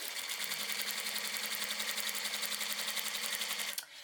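A sewing machine stitches a skirt lining in a fast, even mechanical whir of needle strokes, close and steady for several seconds before stopping abruptly with a small clunk.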